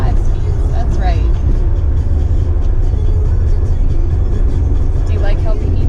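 Steady, loud engine and road drone inside a Honda Integra with a five-speed manual gearbox, driven at constant speed, with faint chirps and rattles over the continuous cabin noise.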